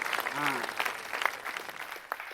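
Scattered clapping from an audience at a Tamil stand-up comedy club, light and uneven, with a voice briefly heard over it.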